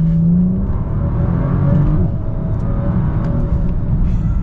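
A 2022 Bentley Continental GT W12 accelerating hard in automatic mode, its engine a loud, steady rising roar heard from inside the cabin with no talking.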